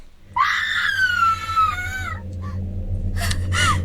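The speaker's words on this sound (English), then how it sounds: "There's the scream." A girl screams in the Corpse Party: Book of Shadows video game, with a long, loud wavering shriek followed by shorter cries over a low ambient drone.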